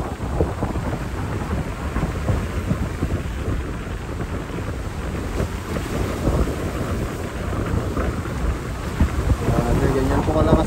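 Strong wind sweeps across Manila Bay during a battleship parade, a constant, heavy rushing roar buffeting the microphone throughout with no letup.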